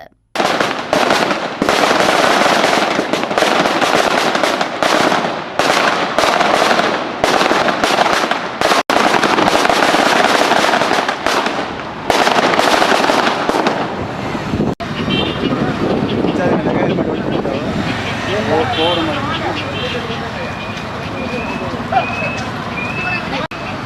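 Firecrackers are set off on a bazaar street in Mannar, a dense, loud rapid crackle of bursts for about fifteen seconds, then quieter street noise with voices and a passing vehicle's horn.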